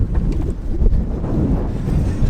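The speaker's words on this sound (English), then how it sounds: "Man, is it windy." Steady wind roars and buffets across the microphone in an open farm field, a constant low rumble with gusty fluctuations throughout.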